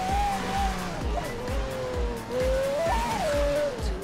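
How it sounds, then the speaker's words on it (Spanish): A video game car engine revving and accelerating, its pitch rising and falling in repeated surges with rhythmic low thumps underneath, loud and continuous with no talk. "A ver cómo corre el pinche carrito."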